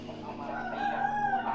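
A fighting rooster in Thailand crows once, a close, loud drawn-out call that rises and holds with no other sounds over it.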